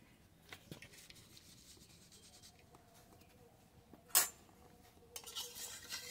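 Cooked rohu fish and taro curry is scooped from a pot with a utensil, making quiet scrapes and rubs, one sharp metallic clink midway and a few more knocks near the end.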